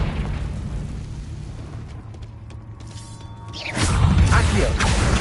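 A Confringo blast spell in a Hogwarts video game bursts out as a loud, broad explosive whoosh and boom, following a quieter stretch with faint mechanical tones.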